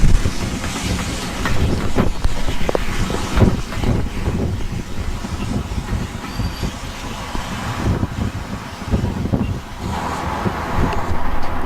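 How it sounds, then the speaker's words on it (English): A blue Somerset and Dorset Railway steam engine hauls a long train into Washford Station on the West Somerset Railway, a continuous heavy rumble outdoors with strong wind buffeting the microphone. "blue coloured engine from the Somerset and Dorset Railway, and there you see her making her way into Washford Station with a long train"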